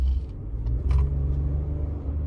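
A Ford F-150 XLT truck with a 2.7 liter V6 accelerating hard: a low, steady engine rumble that swells slightly, heard from inside the cab, continuous and fairly loud with no talk.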